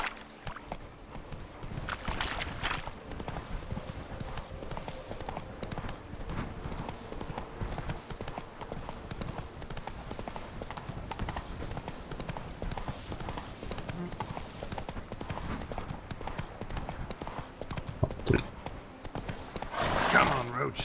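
Hooves of the horse Roach clip-clop in a rapid galloping rhythm in the video game The Witcher 3, steady and close throughout, with a brief whinny and someone speaking over it.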